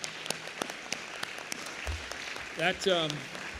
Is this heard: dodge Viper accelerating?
no